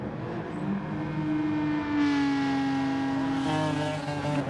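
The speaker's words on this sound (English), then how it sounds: "See the revs begin to build, and the guys are away." Race car engines in a racing video game at the Nürburgring 24-hour, revs building and rising in pitch as the field pulls away on a rolling start, a steady layered engine drone with no talking.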